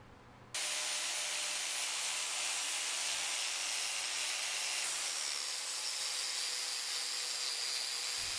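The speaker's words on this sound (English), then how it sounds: "I'm going to clean up the surface a bit with the flap disc" A flap disc grinds the surface of forged Damascus steel, a steady, loud, hissing abrasive whine that holds with little change for about eight seconds after a sudden start.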